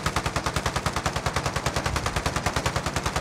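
Rapid automatic gunfire from a video game rattles in a steady, evenly spaced burst of shots, loud and continuous with no talking.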